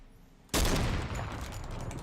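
Gunfire bursts from the Fortnite battle royale video game, a sudden loud onset of rapid shots that continues densely for well over a second.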